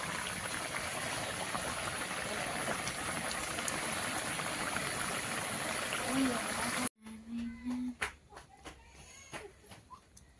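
Pot of papaya and fish curry with ground cumin and chilli paste simmering on a home stove, a steady bubbling hiss for several seconds that cuts off abruptly, followed by sparse faint clicks and a brief tone.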